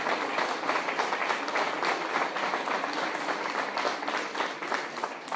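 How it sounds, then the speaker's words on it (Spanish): An audience at a Spanish-language church talk in Guanajuato, Mexico claps steadily, a dense wash of many hands sustained at an even level for about five seconds with no talking over it. "Hay que dar un aplauso a Dios por los jóvenes que están aquí enseguida y todos nuestros hijos."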